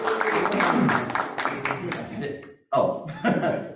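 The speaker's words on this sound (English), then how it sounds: "gigantic round of applause" An audience at an open mic magic show claps in a dense burst, breaks off briefly, then claps again, with a few chuckles mixed in.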